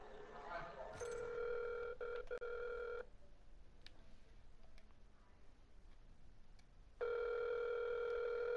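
A phone ringing while calling mom, steady repeating ring tones heard through the handset with a long pause between two rings, alone without talk.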